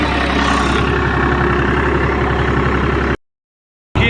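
A tractor engine labours up a steep, muddy hillside in a snowy mountain village, a close, steady low rumble with a constant throb that cuts out briefly near the end.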